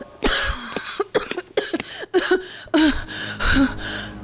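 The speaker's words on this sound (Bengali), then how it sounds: "কাশিটা কিছুতেই কমছে না।" A woman coughs in a string of harsh, close bursts, about a dozen in all, with short gasping breaths between them.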